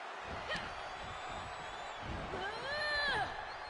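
Arena crowd in the WWE 2K23 wrestling game cheering steadily under commentary, with a swell of whooping near the end and a few sharp slam impacts.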